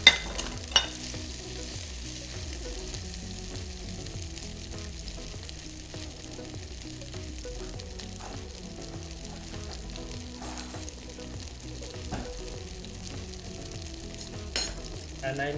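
Seitan, a whole piece and shredded pieces, fries in hot oil in a pan with a soft, constant sizzle and crackle, quiet and close, with occasional louder pops.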